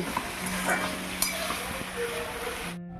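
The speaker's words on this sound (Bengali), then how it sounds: "এবারে নেড়ে চেড়ে নেব নেড়ে চেড়ে নিলেই তৈরি হয়ে যাবে কাঁকরোলের পোস্ত" Teasel gourd posto being stirred in a pan, a soft steady sizzle under scraping strokes and a few light clinks of a utensil, close and continuous for a few seconds before cutting off.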